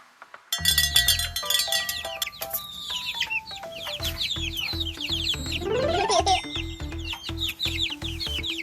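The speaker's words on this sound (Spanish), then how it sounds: "Esto es un pollito." A baby chick cheeps in rapid, high, bright chirps, with one rising trill near the end, close and clear over a steady background tone, presented as a children's animal sound.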